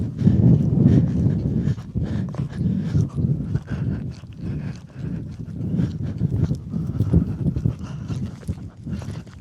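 A horse canters on turf and jumps a corner fence in cross-country training at home, its rhythmic hoofbeats thudding close and steady with heavy snorting breaths.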